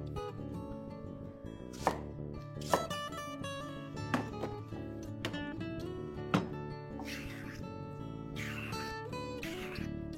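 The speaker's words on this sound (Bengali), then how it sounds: "আলুর মাপেই ডুমো ডুমো করে কুমড়োগুলো কাটবে।" Pumpkin chopped into potato-sized cubes on a board, with a handful of spaced knife thuds heard faintly under steady background music, no talking.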